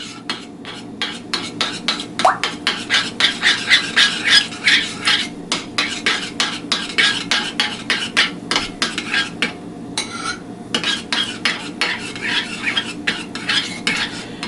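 Blueberry scone dough mixed with buttermilk in a bowl, loud rhythmic scraping and clinking strokes repeating steadily, with a brief pause partway through.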